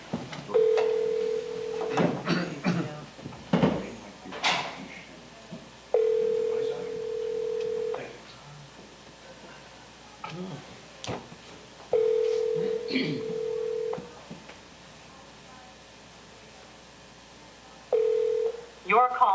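A telephone line during a town assessment review meeting gives a repeated steady ring tone in separated bursts, with clicks and keypad dialing between them; people speak intermittently throughout.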